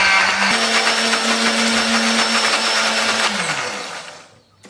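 A kitchen blender grinds chili, candlenut, garlic, turmeric and shallot with a little water into a spice paste, a loud steady motor whir that runs evenly, then winds down and stops near the end.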